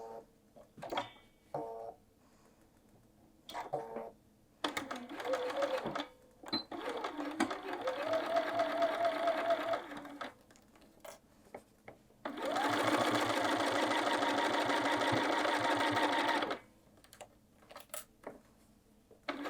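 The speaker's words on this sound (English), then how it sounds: "So head over to your machine and just sew a 1/2 inch seam allowance there." Sewing machine running a half-inch seam to attach the hood of a quilted jacket, heard in a few separate runs, with the longest one steady for several seconds, close by, between small clicks and handling noises.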